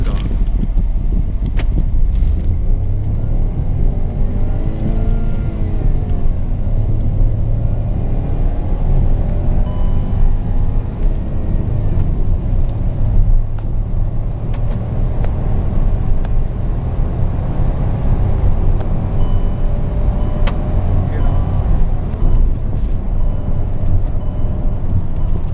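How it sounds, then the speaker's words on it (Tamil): A Hyundai i20 N Line with the IMT gearbox accelerates hard from 0 to 100 km/h, its engine roaring loud and steady from inside the cabin as the pitch climbs through the gears. "நெக்ஸ்ட் நம்ம இந்த காரோட 0 to 100 ஆக்சிலரேஷன் டைமிங் எவ்வளோ இருக்குது அப்படிங்கிறத பார்க்கலாம்"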